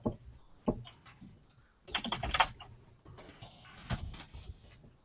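Keystrokes on a computer keyboard while typing into a document, coming in short bursts of close, clicky taps separated by brief pauses, with no talking.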